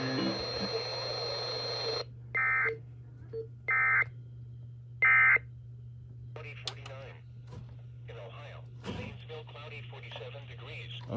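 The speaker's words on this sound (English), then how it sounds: "This station is testing its emergency alert equipment." KDKA radio in Pittsburgh airs an Emergency Alert System test: a long two-tone attention signal, then three short bursts of data tones and a spoken announcement, all carried over a broadcast signal with a faint hum beneath.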